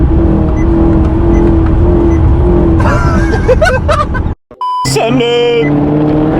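A Maserati supercar's engine rumbles and revs loudly up close, with shouting voices over it, then cuts out briefly before revving again with rising whine.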